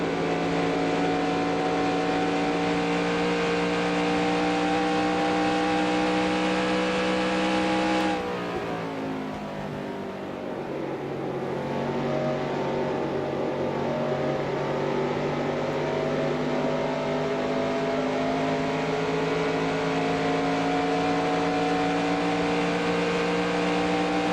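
Stock car engines roar in the NASCAR Racing 2003 video game at Darlington, recreating the 1985 Winston Cup season: a loud, sustained engine whine that drops in pitch midway, then settles back into a steady drone.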